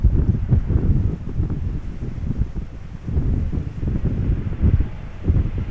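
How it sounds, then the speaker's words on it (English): Strong crosswind blows at Amsterdam Schiphol Airport, a loud, low buffeting rumble gusting unevenly against the microphone throughout with no other clear sounds. "there is still significant wind"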